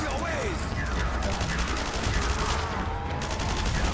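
Upgraded ray gun firing in the zombies video game Das Herrenhaus, a continuous rapid burst of zapping shots mixed with game sounds, while players talk over it.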